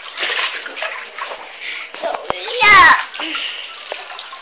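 Water splashes loudly in a small backyard mini pool as a child goes under, one sharp burst after a stretch of child chatter and light sloshing, with a brief spoken remark.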